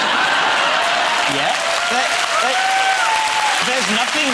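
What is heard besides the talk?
audience applause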